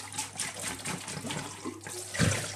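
Running tap water pours over an item being washed at a sink, a steady splashing wash with a louder gush near the end and no talk.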